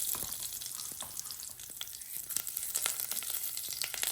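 Curry leaves with cumin, mustard and fenugreek seeds crackling and frying in hot oil for a Batticaloa-style milagu thanni kulambu, a steady dense sizzle with sharp popping spatters throughout and no talk.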